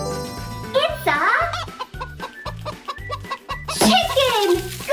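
Cartoon-style chicken clucks sound out over bouncy children's music with a steady beat in a toddler farm-animal learning game, rising briefly twice amid the melody.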